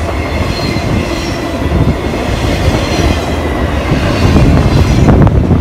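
A train rumbles past close by, wheels clattering and grinding on the rails in a loud, continuous roll that builds slightly toward the end.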